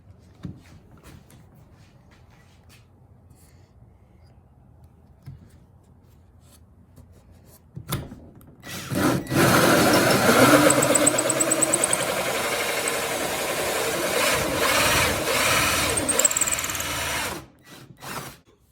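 A power drill whirs steadily for about nine seconds, loud and close, biting into wood after a quiet stretch, then stops abruptly.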